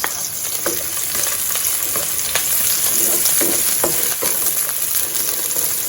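Garlic and onion sautéing for chicken pochero, a hiss of frying in oil with spoon scrapes and taps against the pan at irregular intervals, close and steady.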